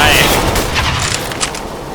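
Gunfire in the video game Counter-Strike: Global Offensive, a loud, dense burst of rapid shots and echoing cracks that fills the whole moment and fades slightly toward the end.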